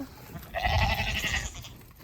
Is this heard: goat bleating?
yes